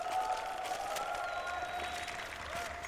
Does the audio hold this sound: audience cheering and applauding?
yes